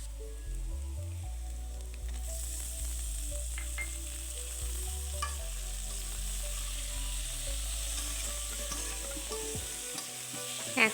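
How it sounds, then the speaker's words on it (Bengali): Carrots and tomato frying and being stirred for chow mein in a pan, a steady close sizzle with intermittent scraping stir strokes throughout, no talking. "ভেজে নিচ্ছি 2-3 মিনিট।"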